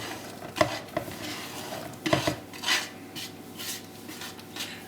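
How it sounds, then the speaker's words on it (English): Onions saute in melted butter in a pan, a soft continuous sizzle broken by several scraping stirs and light clinks of a utensil against the pan, close and fairly quiet. "we'll let that saute for about 2 or 3 minutes"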